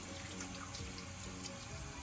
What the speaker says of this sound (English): You want to rinse with your hands facing down so the water rushes off of your fingertips.